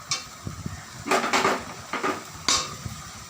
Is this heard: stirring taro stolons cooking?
yes